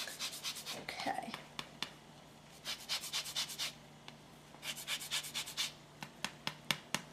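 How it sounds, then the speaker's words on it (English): An orange is zested on a microplane in a home kitchen, a series of quick, close rasping strokes in short bursts with brief pauses, soft and crisp, with no talking. "So I'm just going to do a little orange zest."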